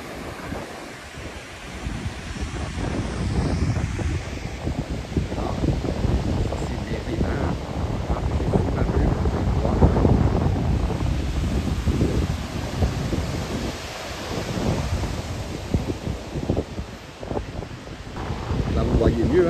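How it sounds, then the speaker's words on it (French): Sea waves wash onto the beach at Le Tréport in Normandy, a steady broad surf roar with wind buffeting the microphone throughout. "Le bruit des vagues."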